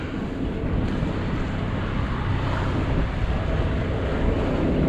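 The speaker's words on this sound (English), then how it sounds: "10 or 12 knots of wind on the beam, on the port side." Steady wind rushes over a sailing boat carrying 10 to 12 knots of wind on the port beam, with water washing against the hull beneath a continuous, full-band roar and no voices.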